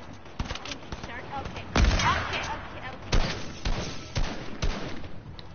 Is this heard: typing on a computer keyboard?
no